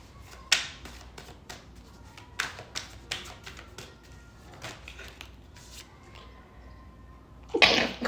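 A single sharp sneeze bursts out near the end, preceded by scattered light taps and shuffling handling noises in a quiet room.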